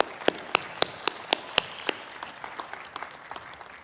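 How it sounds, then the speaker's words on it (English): Sparse clapping from a commencement crowd at Miami University, with a few loud distinct claps at first that thin into scattered, softer claps and a faint murmur of applause. "Let's give them a big round of applause."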